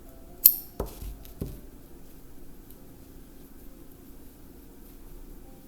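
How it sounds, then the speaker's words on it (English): Scissors snip through a piece of crochet yarn after a knot is tied: two or three sharp, close cuts in quick succession, then a quiet room hum. "cut off a little piece of this yarn"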